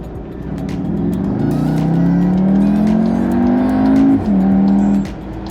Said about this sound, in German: Ist der Auspuffklang wirklich so viel besser?